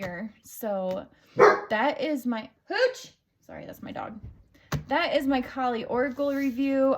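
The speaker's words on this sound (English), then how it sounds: "Sorry, that's my dog." A pet dog barking indoors, a few sharp yips and barks mixed in with someone talking close to the microphone.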